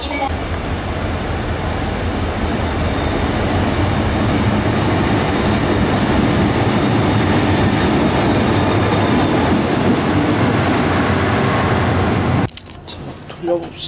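A Korail Saemaeul train on the Janghang Line rumbles loudly and steadily, heard from on board, with continuous wheel and track roar that cuts off abruptly near the end, leaving quieter cabin sounds.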